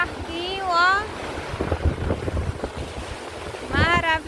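Cold wind buffets the microphone at a beach with boats nearby, a steady rushing roar with gusty thumps, while voices and a child's high vocal sounds come and go over it.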